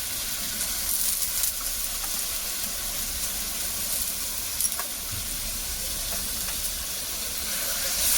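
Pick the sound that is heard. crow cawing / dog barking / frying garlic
frying garlic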